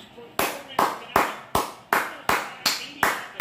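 Two hands clapping in a steady, even rhythm, nine sharp claps a little under half a second apart, close and loud, cheering a basketball team's win in a reaction to a Clippers–Mavericks game.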